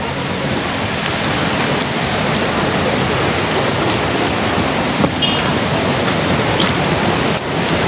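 Water of the Tuntang river flowing steadily in a village setting where children bathe, a continuous broadband rushing wash with faint splashes, no talk.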